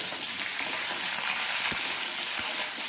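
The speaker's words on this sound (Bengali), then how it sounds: "এখন দিয়ে দিচ্ছি কেটে রাখা আলুগুলো তারপরে দিয়ে দেবো কেটে রাখা কুমড়োটা আলু কুমড়োটা একটু বেশ ভালো করে ভেজে নেব" Chopped potatoes and pumpkin frying in oil give a steady, close sizzle, broken by a few sharp knocks of stirring, with no voices.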